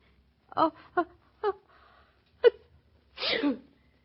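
A woman in an old-time radio drama builds up with several sharp gasping inhales, then lets out a full, close sneeze in a quiet room.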